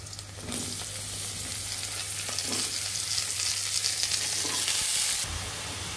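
Chopped vegetables tossed into a pan with a pinch of black cumin, a steady loud sizzle of frying with occasional stirring scrapes, continuing throughout without talk, for a small river fish chorchori.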